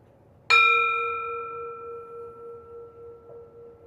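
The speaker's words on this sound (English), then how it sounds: "I will start us with this bell and close us with the bell." A single meditation bell is struck once, a clear bright ding that rings on with a long, slowly fading, gently wavering tone in a quiet room.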